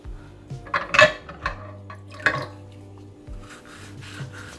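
Breville Cafe Roma portafilter rinsed with water and soap at a sink, with a few close metallic clinks, light splashing and dripping over a low steady hum.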